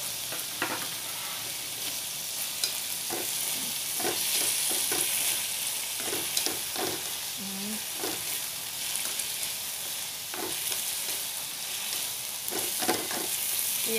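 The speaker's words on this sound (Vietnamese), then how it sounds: "Xả với lại ớt mình sẽ cho nó vô đây luôn." Cabbage stir-fried in a pan with lemongrass and chili sizzles steadily and close up, broken by frequent sharp clatters and scrapes of stirring.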